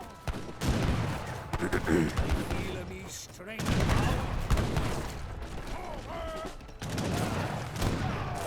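Needle gunners firing in an Age of Empires 3 battle, dense overlapping volleys of gunfire and battle clatter that rise and fall in bursts over several seconds.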